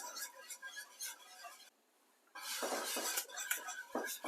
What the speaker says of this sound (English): Now I'm gonna add my mixed cheddar. All of it. I'm gonna go ahead and whisk.